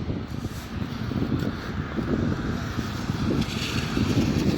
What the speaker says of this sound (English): there were very strong gusts of wind